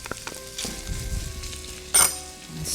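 Garlic added to prosciutto in a hot pan for a rustic torta, a soft steady sizzle with a brief clink of a utensil against the pan, close and alone without talk.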